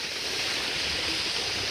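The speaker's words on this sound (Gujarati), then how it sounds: "અહીંથી અમારે ઘઉંમાં જાય છે ત્યારે પાણી" Irrigation water pours steadily from a long pipe into a wheat field, a continuous close rushing and splashing wash with no pauses and no voices.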